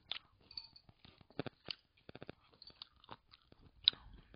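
Wet chewing and soft crunching of anchovy noodle soup with mushrooms, heard close up as a run of short irregular bites and slurps with brief pauses, no talking.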